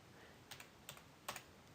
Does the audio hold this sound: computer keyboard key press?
yes